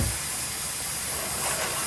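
Ozeki sake poured into a hot pan for chile verde gives a steady, loud sizzling hiss that fills the short moment without any pause or speech.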